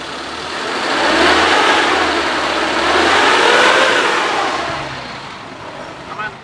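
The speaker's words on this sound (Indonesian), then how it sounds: "Kita coba geber, suaranya juga masih enak." A 2004 Suzuki Realvan DRV van engine revving up and holding high revs for several seconds, loud and close, then easing back toward idle.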